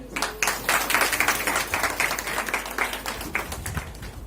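Audience clapping at an award ceremony, a dense sustained patter of many hands filling the hall, steady throughout with a slight easing near the end.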